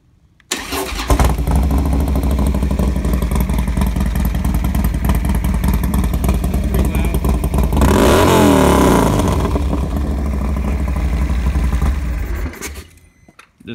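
A 2016 Harley-Davidson Dyna Low Rider S with a Stage 4 117 engine and Bassani exhaust starts up loud and close, idles with a deep rumble, revs sharply about two-thirds through, then cuts off.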